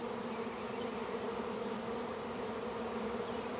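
A swarm of honey bees gathers around its queen during a swarm capture, producing a dense, continuous buzzing drone that holds steady throughout with no voices.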